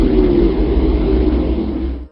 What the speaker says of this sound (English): First, the sound of the Earth.